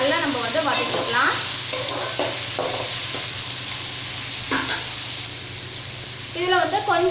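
Tomatoes and slit green chilies sauté in a pan under a soft, steady sizzle, with repeated scraping stirs and brief voices at the start and end.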